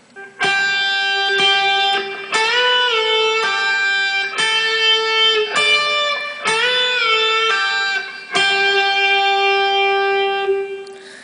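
A clean electric guitar slowly plays a solo, sustained notes with bends and slides, each ringing out before the next, with no talking.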